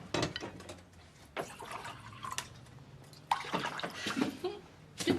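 Tap water runs steadily at a bar, a broad splashing stream beneath intermittent speech that comes and goes across the clip.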